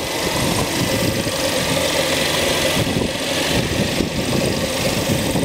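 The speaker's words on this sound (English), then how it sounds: "It's a twin turbo engine." A BMW twin-turbo engine idles with the hood open, a steady, close and even mechanical hum and whir holding constant throughout with no voices over it.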